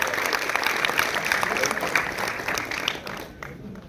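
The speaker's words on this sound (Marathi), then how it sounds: "त्यांच्यासाठी एकदा जोरदार टाळ्या होईल" Applause from an audience at a literature and arts academy event, a dense patter of clapping that holds steady, then tapers off and fades near the end.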